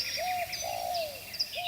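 Cartoonish comedy bird chirps, a few soft whistled tweets and coo-like slides, faint and alone over a quiet background.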